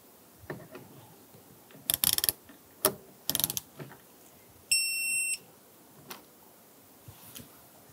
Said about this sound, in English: torque down our Torx bolts to 27 foot-pounds